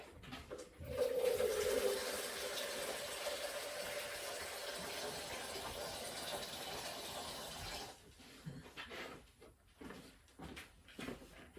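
Water pours from a tap into a canning pot in a steady, rushing gush lasting several seconds, then stops, followed by soft knocks and handling clatter.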